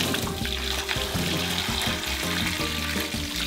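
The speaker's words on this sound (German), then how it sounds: "wir werden jetzt einfach mal den Eimer drauf kippen und dann schauen wir, was passiert" A bucket of water is tipped over a homemade mix of potting soil for houseplants, producing a steady, loud rush of pouring and splashing that lasts throughout.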